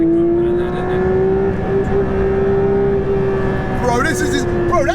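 Porsche 911 GT3 RS engine droning steadily from inside the cabin under acceleration, a sustained loud hum with a rising whine near the end, while people talk over it.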